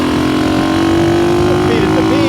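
Motorcycle engine running steadily while riding, a loud, continuous drone close to the listener with a low rumble, holding even through the ride.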